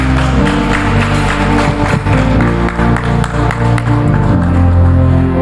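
Church congregation clapping in praise during a worship service, steady rhythmic applause filling the room under loud music and singing.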